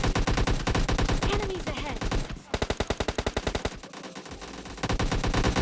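Rapid bursts of gunfire in BGMI (Battlegrounds Mobile India), dense repeated shots with a brief pause, then another rattling volley, loud and close.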